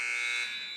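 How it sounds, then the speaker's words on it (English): A steady electronic buzzer sounds at a college wrestling match, loud and continuous for under a second before slowly fading slightly. "Saved by the bell, or the buzzer,"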